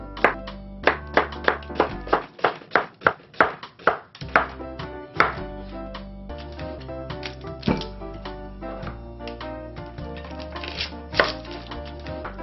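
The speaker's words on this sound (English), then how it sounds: "I'm gonna start cutting some zucchinis" Zucchini being chopped with a knife on a board in a home kitchen, a fast run of sharp, regular chops that slows into scattered cuts, with music or tonal sounds playing underneath.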